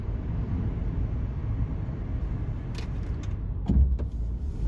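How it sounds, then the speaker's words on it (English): Inside a car driving through a windstorm, a low, steady rumble of road and wind noise fills the cabin, with a few soft thumps and rattles near the end. "I'm just in the car driving"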